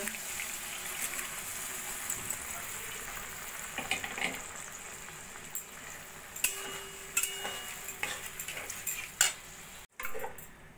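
Spice masala with tomatoes fries and gets stirred in a pan, a soft continuous sizzle broken by scattered scraping and clinks of a spoon against metal, with a short silent break near the end.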